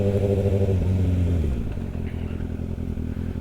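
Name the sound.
Kawasaki ZX6R motorbike riding away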